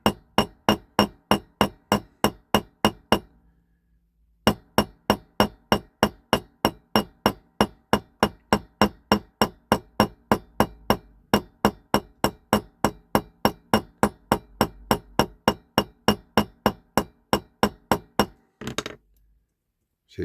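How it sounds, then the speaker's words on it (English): A small hammer strikes steadily to peen over a thick axle on a 1959–61 Dinky Toys Thornycroft Mighty Antar diecast model truck, sharp metallic taps in fast even runs with one brief pause, close and loud. "it's going to take some time for me to peen this over"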